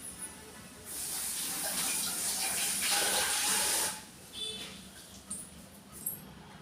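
Water runs briefly from a tap onto a white cloth for steaming nachni papad, a continuous splashing hiss for about three seconds, then a few faint drips and small handling sounds.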